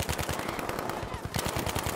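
Rapid machine gun fire in Battlefield 5, a fast continuous string of loud shots at a steady rhythm through the full two seconds, with a brief dip in the middle.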